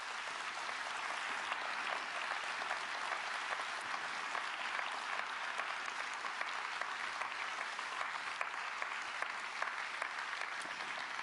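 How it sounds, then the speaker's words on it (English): An audience at the UNHCR Nansen Refugee Award ceremony honoring Angela Merkel applauds steadily, a dense wash of many hands clapping at an even, moderate level throughout with no voices standing out. "Let's give them a final round of applause"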